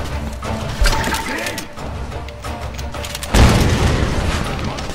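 A grenade blows up in Tomb Raider, a heavy close boom followed by crackling debris. An earlier thump and busy game noise come before it, and a voice is faintly present.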